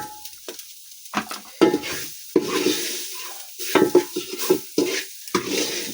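Onions fry in a pan in a village kitchen while a utensil stirs and scrapes them, giving close, irregular scraping strokes over a soft sizzle, with no talk.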